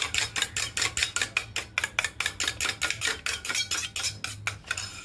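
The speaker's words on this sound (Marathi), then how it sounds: "सगळ्यात पहिलं मी अंड फेटून घेणार आहे" An egg being beaten in a bowl with a utensil, rapid rhythmic clinking strokes against the bowl's side, about four per second, close and even throughout.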